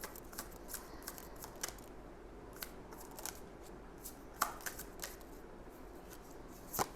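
Tarot cards being shuffled: a steady run of soft, crisp flicks and snaps, close and quiet, with no voices.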